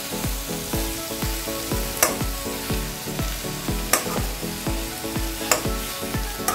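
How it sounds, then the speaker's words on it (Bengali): Fritters of ash gourd (chalkumro chapor) sizzling in oil in a pan while a metal spatula chops them into pieces, a steady loud frying hiss with repeated scraping knocks and occasional sharp clinks against the pan. "এখন এই চাপড়গুলোকে আমি খুন্তি দিয়ে টুকরো করবো"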